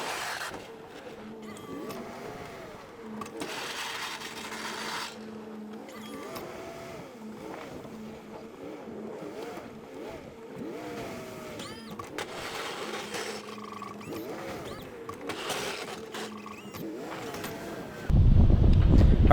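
Pickup truck plowing snow in a driveway: a steady engine drone with rising and falling revs as it pushes, stops and backs up, then a loud rumbling scrape near the end.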